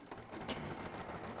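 A sewing machine stitches a bag seam in a steady, fast mechanical whirr, close and continuous, with a dense rhythmic needle chatter that never pauses.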